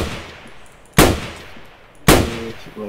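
Two sharp, loud gunshots about a second apart crack out in the MTA DayZ video game, each with a short decaying tail over quiet background.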